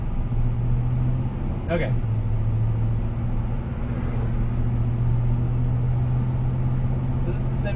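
A 1972 Chevrolet C-10 Cheyenne pickup truck driving, a steady low engine drone and road rumble heard from inside the cab, with a short spoken word over it.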